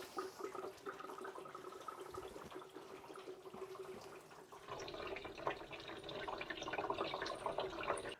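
Engine coolant drains from a pipe into a pan beneath the alternator bracket of a Renault Clio 1.2 16v, a steady close trickling and splashing that grows fuller and louder partway through.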